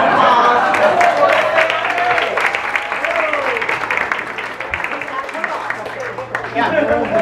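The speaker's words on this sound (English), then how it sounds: "So please a round of applause." Audience applause at a luncheon, steady clapping from a crowded room that lasts several seconds, with voices and chatter mixed into the clapping.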